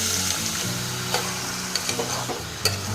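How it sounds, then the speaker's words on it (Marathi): Chicken pieces fry with browned onion in a pot for chicken soup, giving a loud, dense sizzle up close, with a few light stirring clinks near the end and no talking. "कांदा परतल्यानंतर त्याच्यामध्ये चिकन टाकायचं आहे."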